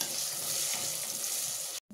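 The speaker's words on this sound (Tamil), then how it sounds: "எல்லாம் நல்லா வதங்கட்டும்." Onions and spices for a Kerala-style fish curry sauté in a pan, a steady close sizzle and crackle that stops abruptly near the end.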